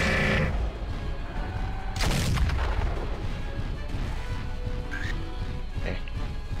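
Mech weapons fire in the video game MechWarrior 4, a heavy booming blast that opens the clip and a second strong hit about two seconds in. A steady rumbling bed continues underneath, with fainter impacts later.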